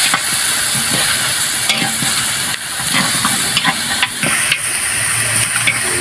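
Native onions sizzle loudly in a pan as native chicken cooks, a dense close hiss with bursts of stirring and scraping, one brief dip midway before the frying roar resumes.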